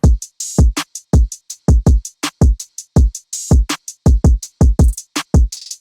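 Dark trap drums made in FL Studio 20 play a punchy pattern: deep booming kicks with falling pitch, sharp snares and crisp hi-hat ticks, loud and dry with gaps between hits.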